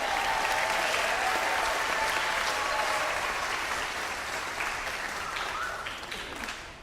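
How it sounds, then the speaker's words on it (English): An audience at a storytelling festival claps for a storyteller, a broad, steady round of applause that holds evenly for several seconds and then tapers off gradually toward the end. "you can clap for her, of course."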